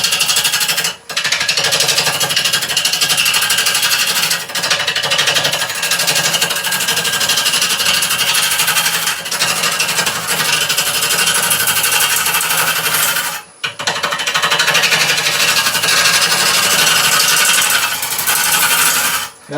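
A wood lathe turns a burr bowl as a gouge cuts away the excess wood, making a loud, continuous rasping chatter that breaks off briefly a few times between cuts. No one speaks.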